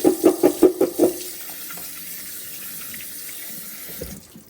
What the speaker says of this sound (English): Put cold water on them to stop the cooking.